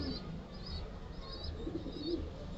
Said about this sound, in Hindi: तो ये कबूतरी है दोस्तों